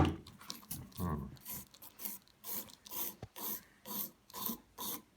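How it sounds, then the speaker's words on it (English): A nail file rasps against a fingernail in a run of short, even strokes, about one per half-second, close and fairly quiet with brief pauses between passes. "obviously you need to file both sides equally"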